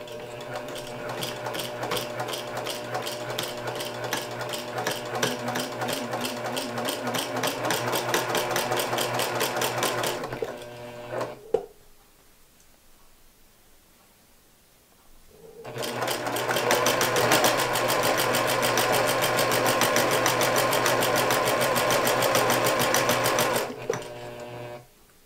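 A sewing machine backstitches the binding on a small quilt. Long runs of steady, rapid stitching come close, with a pause of several seconds in the middle before the stitching resumes.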